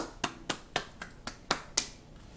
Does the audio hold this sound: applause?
yes